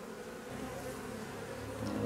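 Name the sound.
honeybees buzzing in a drone-laying hive colony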